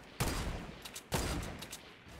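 Two sharp bursts of gunfire from the video game Fortnite, each a loud crack with a short rattling tail, spaced about a second apart, with fainter shots between them.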